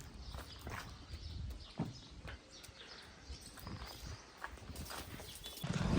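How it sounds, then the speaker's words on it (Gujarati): Horse hooves clip-clop faintly on the ground in an irregular walking rhythm, set against soft outdoor background noise, with no talking. "બીજા બધા હોર્સ સામે છે, દેવાંગી, તાજણ, અભિજીત."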